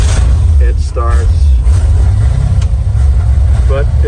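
GM car engine idling with a steady low rumble close by, someone talking over it throughout.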